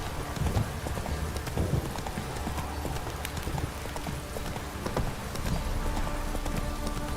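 Galloping horse in The Witcher 3, rapid rhythmic hoofbeats pounding close and loud throughout, with a faint whinny and rain noise beneath.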